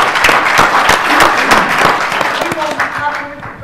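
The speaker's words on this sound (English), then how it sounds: "give him a round of applause for that" A conference audience breaks into hearty applause, dense clapping filling the room for several seconds before thinning out, with a voice faintly audible underneath.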